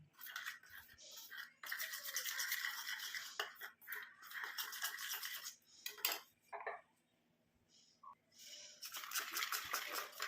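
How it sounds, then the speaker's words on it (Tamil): A spoon stirs and scrapes a vaseline and castor oil mixture in a small bowl, making soft, repeated swishing bursts separated by brief pauses, quiet and close. "நல்லா இந்த மாதிரி மிக்ஸ் பண்ணிடுங்க"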